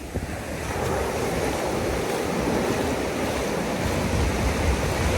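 Sea waves wash onto a beach at Puerto Princesa, Palawan in a continuous roar of surf, mixed with steady wind rumble and no voices.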